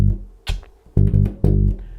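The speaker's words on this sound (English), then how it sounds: "So we're going to start off with a typical bass line which sounds like this." Electric bass guitar playing a typical groove, three or four punchy plucked notes with deep low-end sustain, close and clear with nothing else audible.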